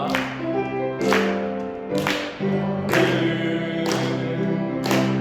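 Sharp, rhythmic claps from a church congregation during a Sunday worship song, landing roughly once a second over sustained music and singing.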